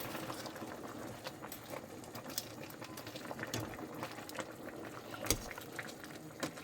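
A pot of spinach soup with fish at a steady boil, continuous bubbling and popping close up, with a few louder bursts breaking through the even simmer.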